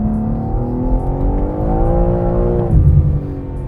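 A rear-wheel drive car accelerating out of a corner on a race track, its engine note climbing steadily in pitch, loud and close, with a brief surge near the end.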